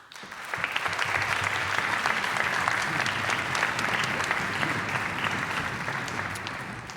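Sustained applause from a concert audience at a youth choir performance, dense steady clapping filling the room from start to finish without pause.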